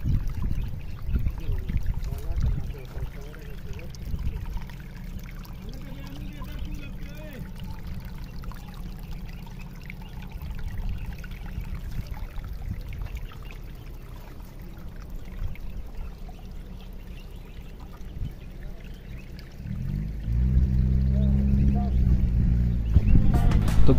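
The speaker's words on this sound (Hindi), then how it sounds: "तो दोस्तों ये है वो जगह जहाँ पे चश्मे का पानी निकल रहा था।" Water from a mountain spring on the route to Tartara Peak in Pakistan flows and splashes in a steady outdoor rush that grows louder near the end.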